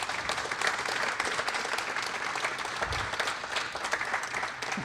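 A ceremony audience gives a dense, steady round of applause for inspiring students at a wallbreaking ceremony. The sustained clapping fills about five seconds with little voice beneath it.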